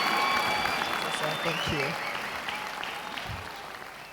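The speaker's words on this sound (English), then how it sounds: "A round of applause for him, please, as he comes on stage." Audience applause fills a hall at the Indomie Heroes Award 2024 ceremony, a steady, dense clapping that tapers slightly over four seconds while a voice briefly speaks over it.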